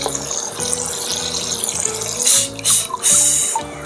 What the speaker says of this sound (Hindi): तो सबसे पहले इसको मैं ओपन कर देती हूँ और इनको धोती हूँ।